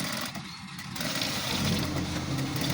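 A sewing machine runs while stitching a seam on a shirt collar, its motor making a continuous buzzing whir that swells slightly partway through. Nobody speaks.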